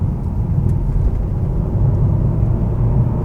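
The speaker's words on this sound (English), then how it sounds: "there's a nice little burble from the engine there as well as it does what it does" Opel Adam S small hatchback pulling in third gear, a deep, steady engine burble and road rumble heard from inside the cabin, loud and unbroken.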